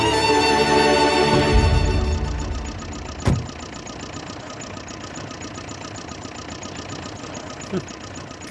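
A vehicle engine idles close by with a steady, throbbing rumble, broken by a sharp knock or thud near the middle of the clip.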